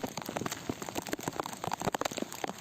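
Heavy monsoon-type rain falls steadily on surfaces during flooding in Gujarat, a dense, continuous patter with scattered sharper drops, moderately loud and without voices.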